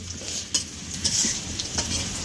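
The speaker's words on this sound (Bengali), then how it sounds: "কয়টা আলু দিচ্ছি আলুগুলা ভালো করে ভেজে নিচ্ছে" Potatoes fry in a pan with a steady sizzle, broken by several sharp scraping clacks of a spoon stirring them, close and fairly loud, with no voices.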